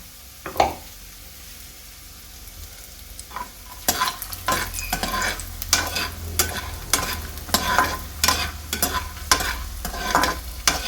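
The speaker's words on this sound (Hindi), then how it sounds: "और ये हैं थोड़े से फुल मखाना, ये भी डाल रही हूँ फ्राई करने के लिए।" Phool makhana (fox nuts) fry in a pan: after a few quiet seconds a loud, close sizzle starts, punctuated by repeated sharp scrapes and taps of stirring that carry on to the end.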